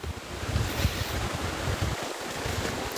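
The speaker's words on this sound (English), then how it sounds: "I got this brook wrapping around the back side of my living space" A brook flows behind a home in a steady, close, broadband rush of running water, continuous and even throughout with no voices.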